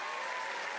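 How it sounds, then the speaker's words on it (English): A brief burst of studio audience applause on a comedy talk show, dense and continuous for under a second. "Round of applause."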